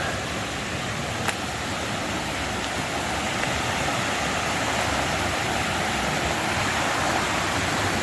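A creek crossing beside a campsite on the Ozark Highlands Trail, its water rushing in a steady, even wash of broadband noise that holds unchanged throughout, with no voices.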